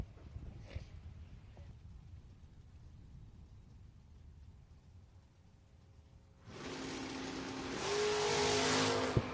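Chevrolet Malibu and Ford Mustang drag cars at a bracket drag race, a low engine rumble idling for several seconds, then both launch into a loud sustained roar of hard acceleration that rises in pitch down the strip, with no voices.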